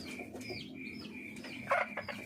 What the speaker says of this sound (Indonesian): Tuh yang coklat tuh ngorok dia ya.